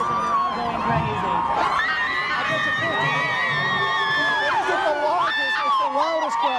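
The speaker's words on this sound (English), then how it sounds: "It's the loudest crowd we've had here in the plaza." A big, excited outdoor crowd at a concert on a New York plaza in 2007 cheers, whoops and screams continuously, with high shrieking voices rising and falling over a dense roar that stays loud and near throughout.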